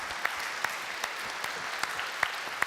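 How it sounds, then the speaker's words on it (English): Audience applause for a conference panel, a dense steady wash of many hands clapping at once with a few sharper claps standing out, sustained throughout with no talk. "can we get a huge round of applause for our panelists"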